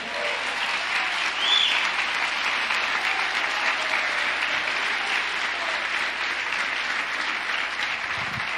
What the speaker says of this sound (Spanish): Aplaude al Rey.